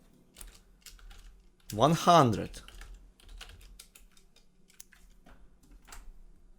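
Scattered, light clicks of typing on a computer keyboard tap along at an irregular pace, close and quiet, with a short burst of speech partway through.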